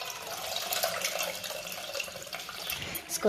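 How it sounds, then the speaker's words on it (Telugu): Tamarind water poured onto crushed dried red chillies for Andhra-style pachi pulusu, a steady liquid splash and trickle lasting a few seconds, close and moderately loud, with a brighter burst at the end. "పిసుక్కున్న తర్వాత దాంట్లోనే మనం పెట్టుకున్న పులుసు వేసుకొని"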